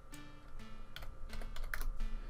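A run of computer keyboard keystrokes, close and fairly quiet, clicking in short uneven bursts over a low room hum.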